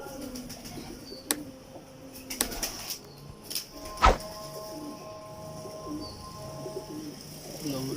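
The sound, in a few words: Heera Lal pigeons cooing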